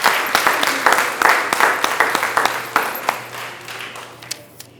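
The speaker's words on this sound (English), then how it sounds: "Can we give all of these students another big round of applause" Audience applause for students at an elementary school awards ceremony, a crowd of hands clapping loudly in a dense patter that gradually thins and fades to scattered claps.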